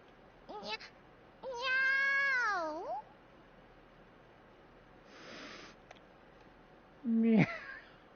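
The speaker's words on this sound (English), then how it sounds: "Oh, it's just a cat, huh?" A cat meows several times, drawn-out, rising and falling calls with quiet gaps between them, one long wail and a sharp final cry, heard close and alone.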